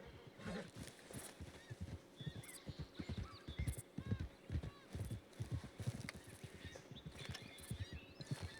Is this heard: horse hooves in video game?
yes